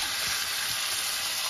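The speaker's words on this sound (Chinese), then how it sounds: "放入鸡腿，少放入点油啊" Chicken thighs fry over low heat in a pan with a little oil, giving a steady, close, even sizzle throughout with no talking.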